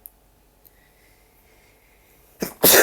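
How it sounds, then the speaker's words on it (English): After near silence and a couple of faint clicks, a single loud sneeze bursts out close to the microphone at the very end, a sharp intake followed by a harsh explosive blast. "Sorry about that, I needed to sneeze"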